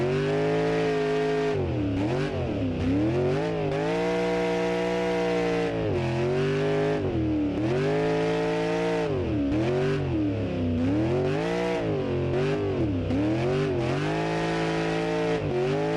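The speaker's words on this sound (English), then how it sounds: "Ah yes, it's good at burnouts too, obviously. It is a muscle car after all." An 80s American muscle car in a racing video game does burnouts, its engine roaring loud and continuous with rising and falling revs throughout, no talking over it.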